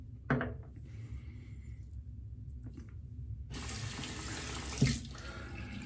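Tap water runs into a sink in short bursts while tallow-based shaving soap is prepared, with a steady splashing rush in the second half and brief knocks at the start and near the end.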